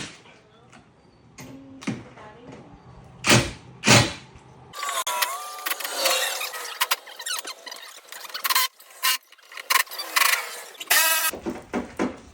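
Ratchet tightening the bolts of a trailer hitch on a 2005-2012 Mercury Mariner, Ford Escape or Mazda Tribute, with bursts of fast clicking between knocks and metallic clanks, close by and fairly loud.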